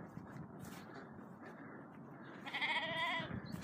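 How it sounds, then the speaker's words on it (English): Baby sheep bleat in an open field along the Cotswold Way, a wavering cry rising near the end over soft wind and outdoor ambience, moderately near with no talk. "it's just me and these baby sheep"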